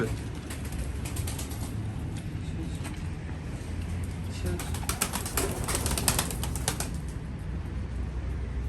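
Tumbler pigeons coo softly amid a busy background of rustling and faint clicking, with a burst of fluttering wings in the middle.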